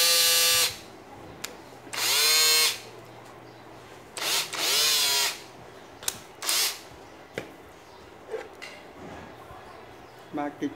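A Makita TB130D 14.4 V cordless drill runs in several short bursts, its whine rising and falling in pitch as the speed changes, with clicks and handling noise between runs.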